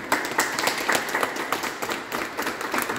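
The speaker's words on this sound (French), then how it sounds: "Acclamez Dieu pour vous." A church congregation at a baptism service breaks into steady, lively applause, dense clapping filling the room throughout without pause.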